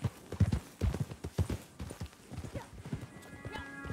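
Horse hooves clip-clop on the ground in the video game Red Dead Online, a quick uneven run of hoofbeats up close, with a whinny and someone talking over it toward the end.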